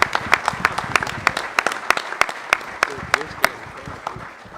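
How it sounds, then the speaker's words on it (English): An audience applauds sorority members as they stand and bow. Sharp individual claps ring out close and distinct over a softer bed of wider clapping, and the applause thins toward the end. "please stand and just take a bow so we can applaud you as well"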